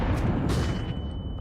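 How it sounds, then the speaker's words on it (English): A flashbang grenade detonates in Counter-Strike 2, a dense, loud, low rumbling blast that fills the whole moment, followed by a thin high ringing tone that lingers as the boom fades. "Deploying flashbang."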